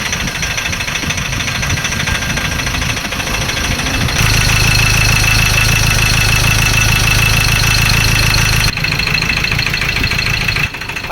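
A loud engine of a 2013 Ford Ranger idles roughly, with rapid, uneven knocking that grows heavier midway and then eases back.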